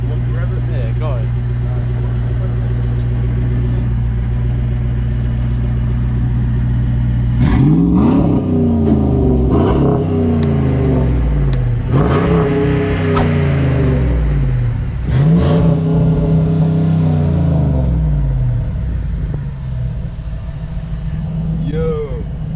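A car with a modified, aggressive exhaust idles with a low rumble, then revs hard several times in quick surges that rise and fall, loud and close, while people talk over it.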